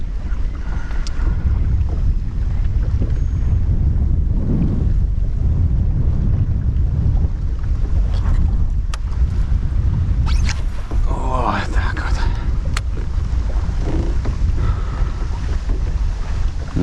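Strong wind buffeting over Lake Onega during spinning fishing from a boat, a loud continuous roar with microphone rumble and splashing water, while someone talks over it.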